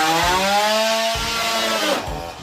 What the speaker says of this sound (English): That's a dude taking a chainsaw to his big screen.